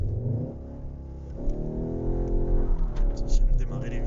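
A front-wheel-drive Skoda Octavia RS pulls away from standstill, its engine droning steadily and building in pitch as it accelerates, with a person talking over it.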